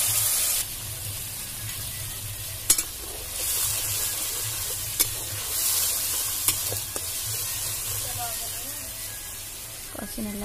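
Mustard, onion and ginger paste frying in oil for an Odia mustard fish curry, a steady close sizzle with occasional scraping stirs and sharp utensil knocks against the pan throughout.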